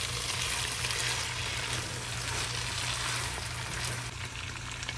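Chicken pieces fry in spice masala in a pan and are stirred, a dense, loud, continuous sizzle heard up close with no talking.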